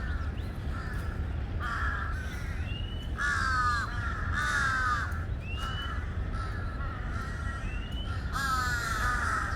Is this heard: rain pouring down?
no